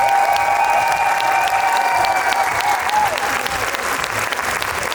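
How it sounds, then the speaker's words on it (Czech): An audience at a dance school's year-end exhibition claps steadily for the dancers, dense sustained applause with a few light cheers, while a faint tonal music line lingers underneath. "Poprosila bych ještě jeden potlesk pro všechny tanečníky."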